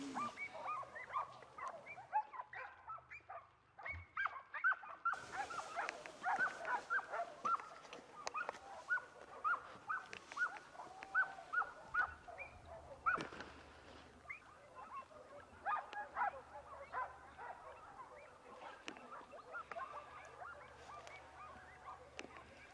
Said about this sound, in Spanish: Otro, es un perro.